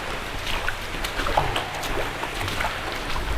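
Water rushes steadily through an underground tunnel, a broad continuous roar with faint scattered clicks and scrapes on top, heard from a short distance.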